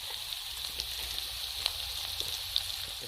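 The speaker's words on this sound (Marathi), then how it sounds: "अद्रक आपण बारीक कट केले होते आणि हा बारीक कट केलेला कांदा. छान आपण जरा परतून घेऊ 1-2 मिनटं" Finely chopped ginger, garlic and onion sautéing in a hot pan for a Chinese-style soybean chilli dish, with a steady even sizzle and a few faint stirring clicks, close and alone without talk.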